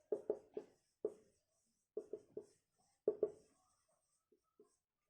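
Marker or chalk tapping and scraping on a board while a chemistry equation is written in a class, sharp clustered strokes in short bursts with gaps between, near and fairly clear, no talking.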